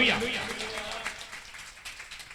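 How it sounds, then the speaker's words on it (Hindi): A church congregation at an anniversary service claps together, a burst of dense applause at the start that thins into scattered claps, with a voice briefly heard over it. "ताली बजा दीजिए।"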